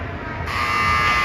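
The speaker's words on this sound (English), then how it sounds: "And there's the buzzer." End-of-game buzzer at a hockey match sounds abruptly partway through, a loud steady electronic drone that holds to the end over arena background.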